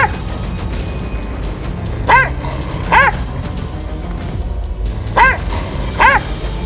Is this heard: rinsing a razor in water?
no